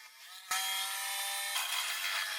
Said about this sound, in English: I'll use my jigsaw to cut it out